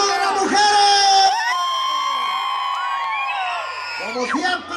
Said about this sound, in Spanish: ¡Y un grito de las mujeres!